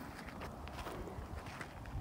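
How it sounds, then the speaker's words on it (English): Faint, steady wind rushes outdoors near the mountains, a soft continuous whoosh with light gusty fluctuations and no voices. "really windy out here"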